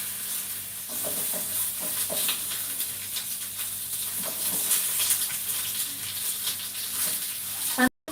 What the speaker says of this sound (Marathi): हे सर्व आपल्याला पॅनमध्ये लाल होईपर्यंत भाजून घेत आहे